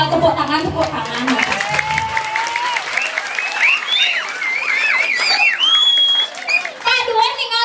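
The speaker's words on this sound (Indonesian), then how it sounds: "Tepuk tangan, tepuk tangan." Audience applause rising as a dense, steady wash of clapping from a crowd at a lively Balinese comedy performance, with whistling tones and voices mixed through it throughout.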